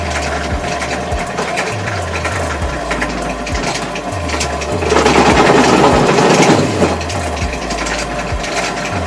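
A cheap Chinese drill press motor runs loud and steady with a rattling, ratchety mechanical clatter that swells briefly midway.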